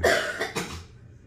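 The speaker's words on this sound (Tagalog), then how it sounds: "That's why you need to drink a lot of water. Then your cough will be gone." A short burst of coughing, two or three close, harsh coughs in quick succession that fade off, with no talking.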